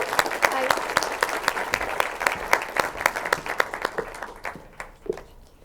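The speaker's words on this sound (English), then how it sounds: "Can everyone please give her a big round of applause?" Audience applause at a live show, a room of people clapping with distinct individual claps standing out, steady at first and then dwindling to a few scattered claps.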